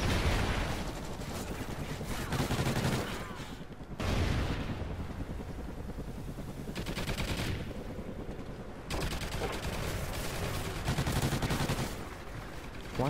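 Turret gunfire in a video game, with dense, continuous automatic fire in long loud bursts separated by brief breaks, plus occasional heavier booms.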